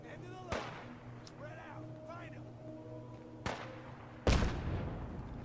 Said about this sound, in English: They're already shooting at something.